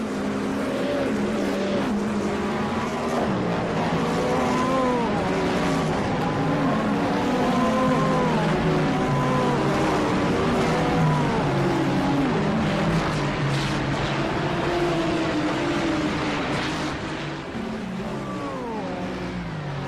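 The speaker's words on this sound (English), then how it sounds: "let's listen in to the sound of the engines as they head here through the chicane at Michelin Raceway Road" Race car engines in a sim racing game sweep through the chicane at Michelin Raceway Road Atlanta, with several cars revving and shifting in overlapping rising and falling whines, loud and continuous.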